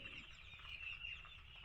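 Chickens cluck and chatter at a small poultry farm, a dense continuous flock sound with bright squawks and occasional wing flapping, steady and fairly close.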